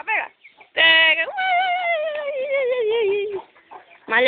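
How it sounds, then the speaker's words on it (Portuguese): Chickens cluck and squawk nearby in a long, drawn-out wavering call, with a few shorter clucks before and after. "As galinhas."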